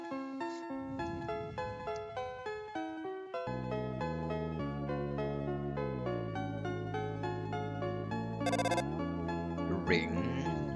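A ringing phone in the Undertale video game, heard as a synthesized ringtone melody of repeating tonal chimes with steady rhythm, over game background music, with a brief bright burst near the end.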